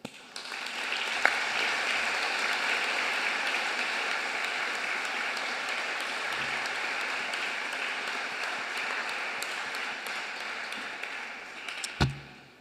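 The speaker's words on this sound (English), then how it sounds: "So give it a round of applause there." Audience applause at a university graduation ceremony in Sydney, a steady, broad wash of clapping from a large crowd sustained for about twelve seconds at moderate distance, with a sharp knock near the end.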